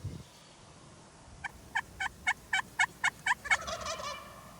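A wild turkey gobbles in a rapid burst of about nine rising notes during spring turkey hunting, fairly close and clear against a quiet outdoor background.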